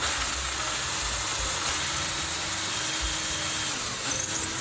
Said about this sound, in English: just on a very small drill bit, we'll drill a hole straight down